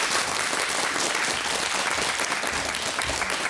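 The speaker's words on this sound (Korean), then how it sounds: "다시 한번 큰 박수 부탁드릴게요." Loud, dense applause from a lecture audience at a televised polar expedition talk event, continuous clapping from many hands filling the hall throughout.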